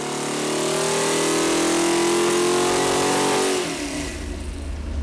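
A high-performance Mopar 360 V8 with a leaky header revs loudly on an engine dyno, holding a rising, harmonic-rich roar for several seconds before dropping back to a rough, lower idle.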